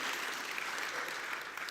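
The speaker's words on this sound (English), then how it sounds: "I feel the applause." Steady applause fills a remembrance service, a soft, even patter of many hands clapping at a distance for under two seconds with no voices over it.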